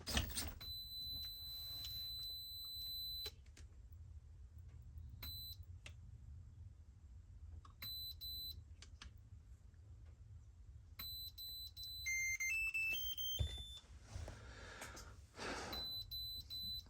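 A series of high electronic beeps from an ISDT battery charger, single and in short clusters, with some rising stepped tones, over a steady low hum; no one speaks.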